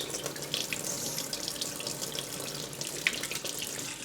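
Lukewarm-to-cold tap water runs steadily into a sink for washing a cross stitch piece, a close, continuous splashing hiss with no voices.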